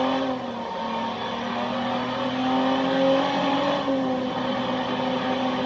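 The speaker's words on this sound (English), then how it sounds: "Damn, it's a patrol car." A patrol car engine in the Watch Dogs video game hums and drones steadily throughout, swelling slightly midway as if accelerating, with no talking over it.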